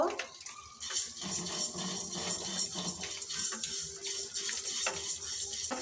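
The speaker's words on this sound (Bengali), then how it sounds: "ছোলার ডালটা একটু ভেজে নেব" Split chickpeas (chana dal) frying and being stirred in a frying pan, with a soft continuous sizzle and scraping clinks from the utensil, heard under a voice.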